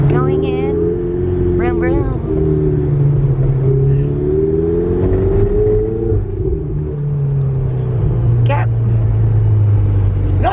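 A Ferrari supercar accelerates on a Santa Monica street with a loud engine drone that rises and holds through shifting pitches, while people talk over it close by.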